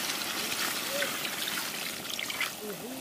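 Water pouring into a cooking pot of spiced country chicken korma being prepared outdoors for Santali villagers, a steady soft trickle and splash running throughout, with faint background sounds.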